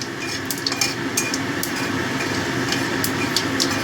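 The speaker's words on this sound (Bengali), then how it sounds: "ফোড়নটা ভাজা হয়ে গেছে আমার" Spices tempering in hot oil in a pan for a Bengali bata fish curry, giving a steady close sizzle with light metallic scrapes and clinks of a spatula against the pan.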